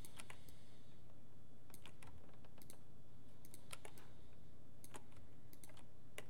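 Keyboard shortcuts and mouse clicks during 3D modelling come as scattered, quiet, close taps in small bursts, with pauses between them over a low background hum.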